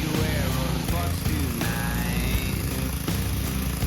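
A pressure washer filled with fine sand and used as a sandblaster on a 31-foot boat trailer runs with a loud, steady engine drone and constant hiss, close and continuous.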